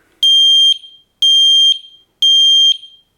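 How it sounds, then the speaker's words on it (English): A Sensereo MS-1 smart smoke detector runs its alarm test, sounding three loud, piercing high-pitched beeps in an even rhythm, each about half a second long and separated by short silences, close to the device with no other sound. "so that test works very easily, just like any standard smoke detector"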